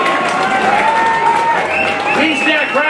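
A crowd applauding and cheering at a women's Australian football match, a steady roar of clapping and voices under a commentator's continuous speech.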